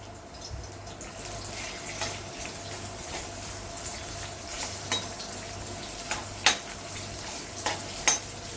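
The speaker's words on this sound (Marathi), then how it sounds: "तेल तापले, त्यामध्ये आपण एक कांदा घेतलाय कापून उभा चिरून." Sliced onion sizzles in hot oil in a pan while shev bhaji is cooked, a soft, steady frying hiss with a few sharper clinks and pops toward the end and no talking.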